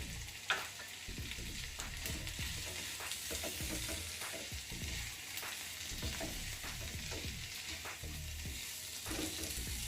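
Ground kadai masala frying with vegetables in a pan, a quiet, steady sizzle with frequent crackles and stirring scrapes throughout, no voices.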